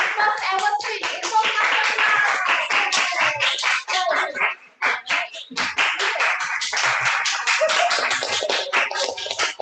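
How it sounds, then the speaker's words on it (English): A small club meeting audience claps for a speaker who has just finished a first speech, a dense run of close hand claps with a few brief gaps, steady and fairly loud. "let's clap for speaker one, Alvin, for completing his first ever speech"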